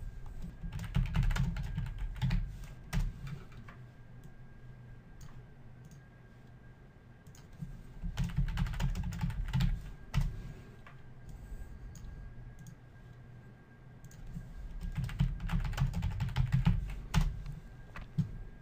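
Bursts of typing on a computer keyboard, quick clicky keystrokes coming in three separate runs with quiet pauses between them, close and fairly soft, with no talking.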